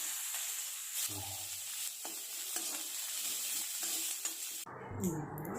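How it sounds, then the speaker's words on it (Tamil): Onions and curry leaves frying in a pan for South Indian cabbage poriyal, a continuous close sizzle with periodic spatula stirs and scrapes, and a brief louder clatter near the end. "வெங்காயம் நல்லா வதங்கட்டுங்க."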